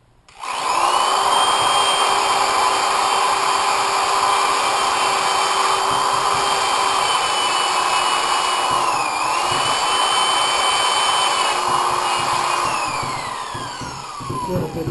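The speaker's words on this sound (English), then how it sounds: "I'm going to use my drill and sander here." A drill sander sanding a humidity-damaged bathroom door whines steadily and loudly throughout, its pitch dipping briefly as pressure changes, then easing slightly toward the end.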